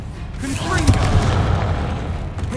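A Confringo fire-spell blast in Hogwarts Legacy lands as a booming impact with a rumbling tail, while a voice calls out over it.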